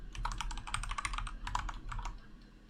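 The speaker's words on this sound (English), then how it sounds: "If I could type my password." Quick, uneven bursts of key presses on a computer keyboard as a password is typed, close and soft, with brief gaps between clusters of clicks.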